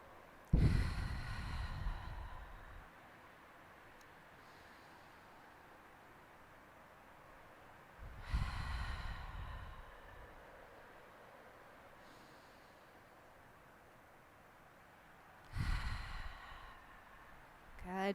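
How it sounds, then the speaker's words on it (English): Slow, deep yoga breaths come close to the mic, three long audible breath cycles spaced evenly apart, each a rushing inhale-exhale that fades into a quiet pause. "We'll take about 3 rounds of breath here"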